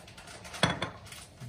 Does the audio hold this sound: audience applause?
no